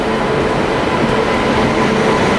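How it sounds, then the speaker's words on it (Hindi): The Tamil Nadu Express, hauled by a WAP-7 electric locomotive, is heard at a station platform as a loud, continuous rumble of rail cars with no voices. "तो अपनी तमिलनाडु एक्सप्रेस अपने प्लेटफॉर्म नंबर"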